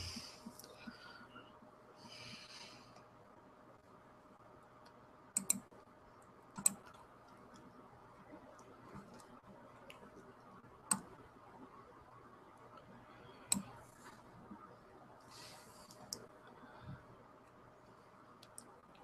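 Computer mouse clicks during design work in Canva, a handful of sharp, quiet ticks spaced a few seconds apart over a low, steady room hum.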